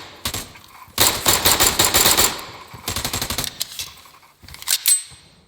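Video game gunfire from pistols and a sniper rifle crackles in rapid bursts of repeated shots, loud and close, separated by short silent gaps, with no talking over it.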